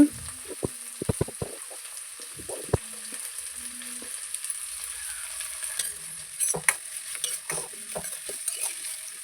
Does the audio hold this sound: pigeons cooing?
no